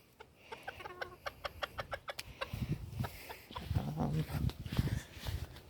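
Chickens clucking and squawking close by in quick, irregular bursts, several birds busy together with soft fluttering and scratching.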